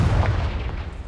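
A Confringo blasting spell explodes in Hogwarts Legacy, a dense low boom with rumbling body that stays loud and sustained for about a second, with no talk over it.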